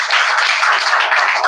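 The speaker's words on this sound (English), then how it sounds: "Clap for her." An audience applauding for a speaker at a school English speech event, a dense steady patter of many hands clapping close by.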